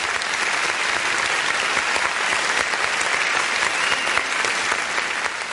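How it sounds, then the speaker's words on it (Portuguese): A church congregation claps in praise of Jesus, producing a dense, sustained burst of applause that stays loud and even throughout. "Você pode dar uma salva de palmas para Jesus?"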